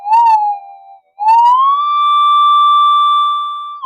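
Electronic tone from a Minelab GPX-4000 metal detector with upgrades and mods, front-end gain raised: a loud, clean warbling pitch that breaks off briefly, then returns and rises to a long steady whine.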